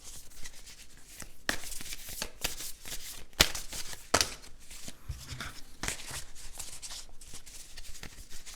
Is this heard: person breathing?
no